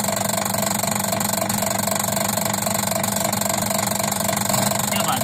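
A washing machine spin-drying with a faulty clutch, producing a loud, continuous mechanical roar with a rattling, knocking drone that holds steady throughout.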